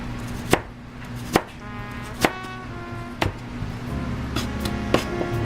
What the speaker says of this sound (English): so I'm just going to slice it this way and then go the other way